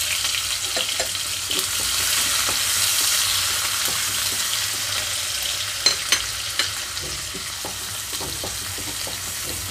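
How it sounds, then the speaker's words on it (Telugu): Onions and green chillies fry in oil for an amaranth stem curry, a steady close sizzle with occasional stirring clinks and scrapes. "ఇక్కడ ఉల్లిపాయలు, పచ్చిమిరపకాయలు కొంచెం దోరగా వేగనిస్తున్నాను"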